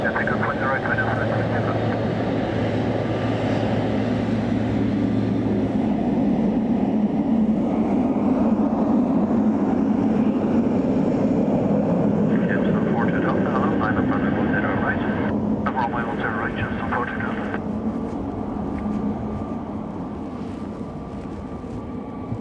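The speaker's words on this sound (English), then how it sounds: "runway 10 right, clear for takeoff" Airliner taking off from runway 10 right at Dublin Airport on a windy day, a loud steady jet roar that builds and then slowly fades.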